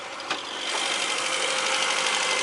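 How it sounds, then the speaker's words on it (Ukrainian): A Mazda 626 GE with a 2.0 injector engine running on gas idles steadily and evenly, a close, continuous mechanical hum with no talking. "Там моторчик працює, як бачите, дивіться, рівненько."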